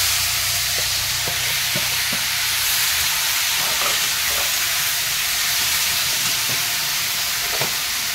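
Tomatoes with salt and turmeric sizzle loudly in hot oil after a bay-leaf tempering, a steady dense hiss throughout with a few faint clicks of stirring, no voices.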